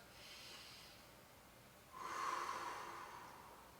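Slow deep breathing during a floor stretch, a soft airy exhale early then a louder, longer breath through the nose in the second half, close and alone with no talking.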